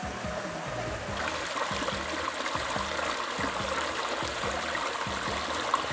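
The stream at Chanta Then waterfall in Thailand gives a continuous, even rush of flowing water that stays close and fairly quiet throughout, with no speech.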